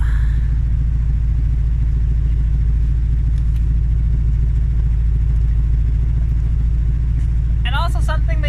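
A 1983 GMC Vandura van's engine idles with a low, steady rumble as the van pulls forward, close and constant, with a brief voice near the end.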